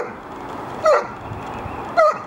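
A Bracco Italiano dog barks twice, short sharp barks about a second apart, close by and fairly loud against a quiet background.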